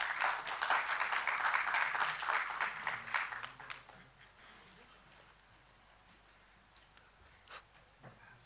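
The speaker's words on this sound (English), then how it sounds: "Please give them a round of applause." Audience applause at a symposium hall, loud clapping that holds for about three seconds, then fades to scattered claps and a quiet room.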